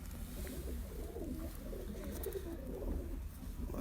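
Pure breeder pigeons cooing in Johar Town, Lahore, soft repeated throaty coos over a steady low background hum, faint and close, with no talk.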